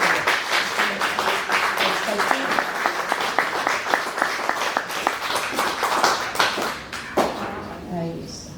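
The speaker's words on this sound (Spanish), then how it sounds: "Vamos a darles un aplauso." Steady applause from a group, many hands clapping densely for several seconds before thinning out near the end.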